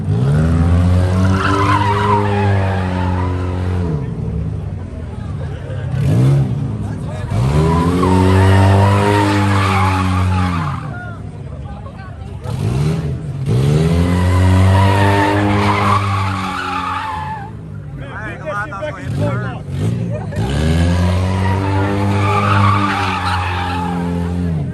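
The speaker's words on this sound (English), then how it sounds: "Bro, he's sliding his Honda up reverse" Honda car sliding in reverse with its tires skidding, a loud, continuous squeal that rises and falls in several long sweeps, close by, with an engine droning beneath.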